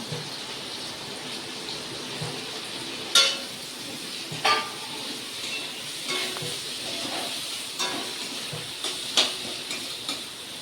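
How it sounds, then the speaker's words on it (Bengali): Onions fry in oil, after whole spices like cinnamon and cardamom, until brown: continuous sizzling hiss close by, broken by occasional sharper crackles and stirring scrapes every second or two, with no voices. "বাদামি কালার করে ভেজে নেব।"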